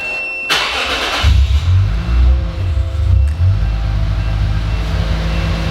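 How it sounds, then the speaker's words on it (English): A Lexus IS350 with its battery disconnected cranks on supercapacitor power and catches, settling into a loud, steady close-range idle with no talking. "now we're gonna start it up"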